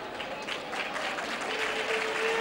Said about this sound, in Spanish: Un aplauso a esos hermanacos.